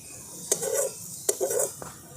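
Cooked pulao rice being lightly fried and stirred in a pan, with three distinct metal spoon scrapes and clinks against the pot, each followed by a short rustling shuffle of rice, close and fairly quiet.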